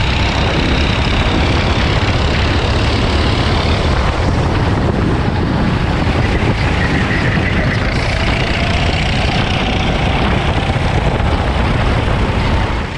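Go-karts race on a dirt track, their engines blending into a loud, continuous roar that swells and fades slightly as the pack passes, heard at a distance with no voices.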